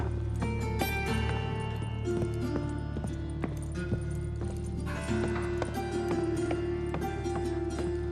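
Steady rhythmic hoofbeats of a galloping horse in The Witcher 3 over a dense, continuous bed of music and ambient noise.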